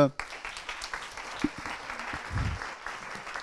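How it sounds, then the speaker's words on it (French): Brief audience applause rises at a French panel event on the elderly, with scattered claps and a few voices mixed in the room before it fades. "on vous remercie, on vous applaudit"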